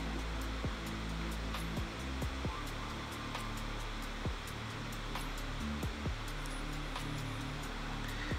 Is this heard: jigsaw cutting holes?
yes